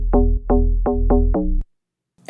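Serum-made bass layered with a plain sine-wave sub bass, five loud, evenly spaced sustained notes with deep low end, then a sudden cut to silence before a brief new sound starts.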